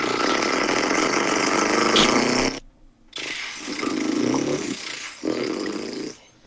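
A voice imitates a semi truck engine, giving a rough rumbling drone, then a short pause and two more growling bursts, close and fairly loud.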